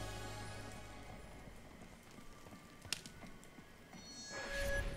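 Rhythmic hoof clip-clops of a galloping horse in the video game Life Is Strange 2, at moderate distance, steady and continuous, with a brief sharp knock midway and a swelling whoosh at the end.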